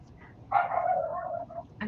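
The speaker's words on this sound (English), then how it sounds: "There's that yappy schnauzer again." A schnauzer gives a short, fairly close yap over quiet background noise, with a second brief yip at the very end.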